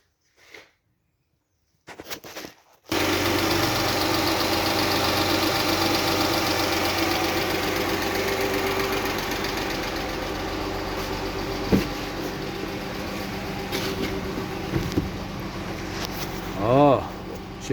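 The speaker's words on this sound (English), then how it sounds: "Got a little skip in it, but I done changed the spark plugs and ignition coils, and it still got a little skip." A 2006 Chrysler 300 with the 3.5 engine idles steadily close by with a faint tapping and an occasional skip after new spark plugs and ignition coils, starting after a brief quiet opening, with a few clicks near the end.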